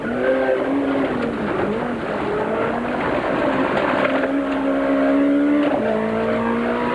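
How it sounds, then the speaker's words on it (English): In-car sound from a Nissan rally car setting off on stage 3 of the 1992 Sasol 400 Rally, engine revving hard and changing pitch through gear shifts with tire noise, loud and close. "We join the Nissan of Nick de Waal and Guy Hodgson in car as they set off on stage 3."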